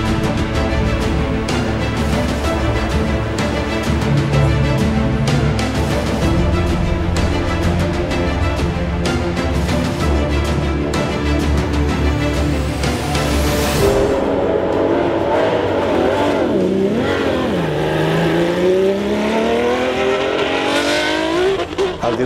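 A restored Minardi M191B Formula 1 car races on a circuit, its high-pitched engine screaming loud and steady, then revving and shifting as it passes and pulls away, pitch sweeping down and up again.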